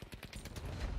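A short burst of rapid automatic gunfire in the video game Battlefield 5, with several quick shots in a row, fairly faint.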